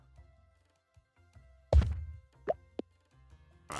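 A tree stump is cleared in the video game Little Rocket Lab, heard as a soft plop and thunk followed by a few small pops and clicks over quiet background music.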